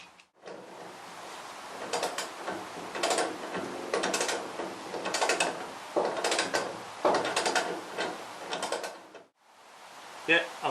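Wrench ratcheting as rear subframe bolts are tightened on a Classic Mini, a run of repeated metallic clicks in uneven bursts, close up and moderately loud.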